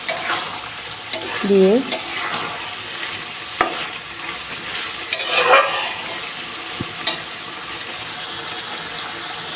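Chicken being stir-fried with spices in a pan, a steady sizzle with scraping stirs, close and fairly loud, and a short spoken word briefly over it.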